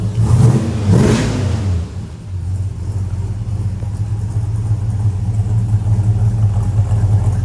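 A 1973 Dodge Charger SE with a 400 engine and 4-speed revs loudly once, then settles into a deep, steady rumbling idle close by.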